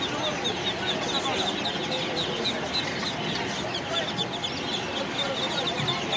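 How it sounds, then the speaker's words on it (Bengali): Silkie chickens cluck at a bustling poultry and bird market in Fatullah, Narayanganj, with repeated soft clucks mixed into crowd chatter and general market noise. "এখানে রয়েছে সিল্কি মুরগি"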